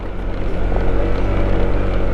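Motorcycles ride along a loose gravel off-road track in the Sierra Madre mountains, giving a steady, close engine drone mixed with broadband rumble and wind noise, with no talk.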